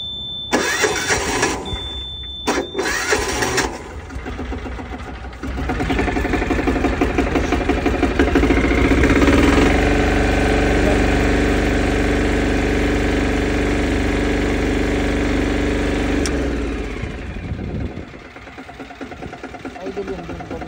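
A 400 kg plate compactor's engine is started with a couple of brief cranking pulls, then catches and runs with a loud, steady chugging drone nearby before cutting off near the end.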